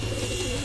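Racing pigeons coo in a low, continuous murmur that stays close and steady throughout the short stretch, with no talk over it.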